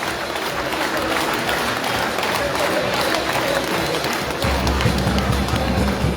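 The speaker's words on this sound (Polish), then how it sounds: "raz jeszcze, drodzy Państwo, ogromne brawa" A crowd in a sports hall gives sustained, loud applause and cheering at the team presentation for the Aluron CMC Warta Zawiercie volleyball club in Zawiercie, a thick continuous roar of clapping with no letup.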